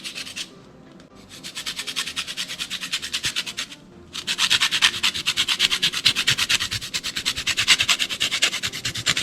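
A lemon rubbed across a metal grater for zest while preparing a cherry and persimmon pie filling: steady, rhythmic rasping strokes, close and clear, with a brief pause before the scraping resumes more loudly.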